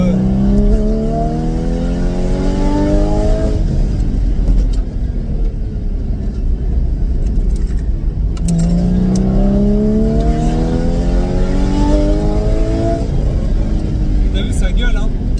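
Supercar engine at a charity supercar event, loud and close, revving hard through two long accelerations with rising gear pulls and a roar, with people talking over it.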